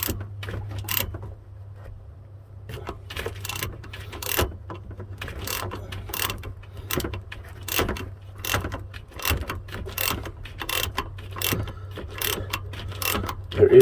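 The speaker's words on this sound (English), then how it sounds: "when you hear it click, that means I got to the torque spec" Ratchet clicks in a steady repeating rhythm as a bolt is tightened into aluminum on a Lippert hydraulic pump motor, close and distinct over a low constant hum.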